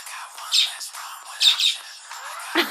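A pet bird gives short, sharp squawks in a rhythmic run, bursts spaced about a second apart over background music.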